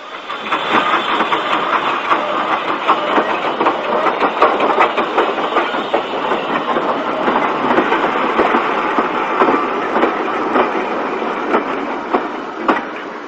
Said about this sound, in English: 53807 on a down goods slows on the final approach to Evercreech Junction.